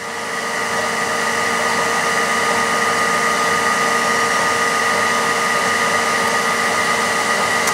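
A CNC grinding machine running an OD or ID dress and grind cycle: a steady, loud, even whine with constant tonal hum, unchanging throughout and with no voices.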